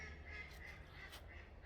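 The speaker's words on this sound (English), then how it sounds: "fucking ducks" Ducks quack at a lagoon near a caravan site in Scunthorpe, faint and distant over a steady broad wash of outdoor background noise. A few brief calls stand out.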